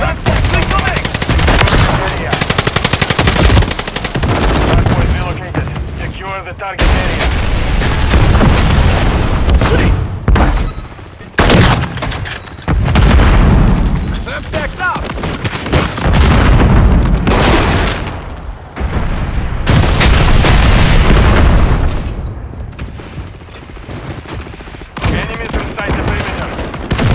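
Heavy gunfire and explosions in Call of Duty MWIII multiplayer, loud continuous bursts of automatic fire and deep booms filling the whole stretch with only brief lulls.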